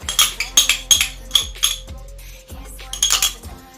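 Metal spoon clinking repeatedly against a bowl while spoonfuls of sunflower oil are measured for sandwich rolls, several sharp close taps in quick groups, with a pause before a final burst.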